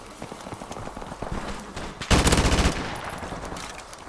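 Rapid automatic gun firing in Modern Warfare Remastered: a fast stream of close shots with a louder, denser burst midway, then continuing fire, with a player talking briefly.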